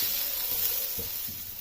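Finely chopped onions frying in a pan, a steady close hiss and sizzle carrying on without a break and with no talk.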